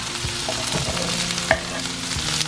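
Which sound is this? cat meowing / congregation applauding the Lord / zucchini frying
zucchini frying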